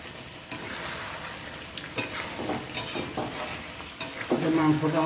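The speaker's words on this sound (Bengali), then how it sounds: "কাঁচা ছিমের বিচিটা আমি একটু ফ্রাই প্যানে ভেজে নেব।" Raw flat bean seeds stirred and frying in hot oil in a frying pan, a steady close sizzle with scraping stir strokes that grows louder and crackles more toward the end.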